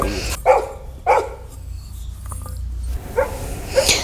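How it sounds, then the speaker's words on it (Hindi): A dog named Rani barking at other dogs in a family home setting, several separate sharp barks spaced across the moment, fairly close, with background voices between them. "रानी यहाँ दूसरे कुत्तों को देख के भौंक रही थी"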